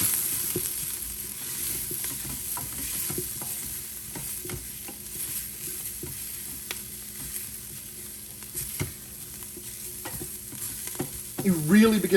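Spices with cinnamon roasting in hot fat inside an Instant Pot for a Mexican beef stew, a continuous close sizzle with scraping and stirring throughout and a louder burst of frying at the end.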